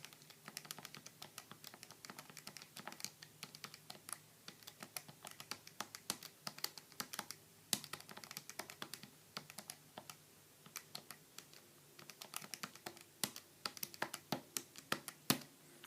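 Quick, irregular key presses as data is entered into a calculator, a steady run of light plastic taps close by, with no talking.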